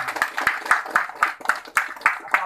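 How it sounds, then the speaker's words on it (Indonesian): Hands clap in a steady group rhythm, roughly eight sharp beats, at a community gathering of neighborhood volunteer cadres in Kupang Gunung Jaya, Surabaya, close and fairly loud with faint voices underneath. "Tepuk tangan dulu."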